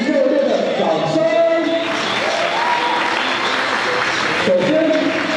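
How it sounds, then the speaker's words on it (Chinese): Sustained applause from a graduation ceremony audience at Shimen Junior High School in New Taipei, honoring two homeroom teachers, steady and loud throughout with voices mixed in. "让我们给两位导师热烈的掌声。"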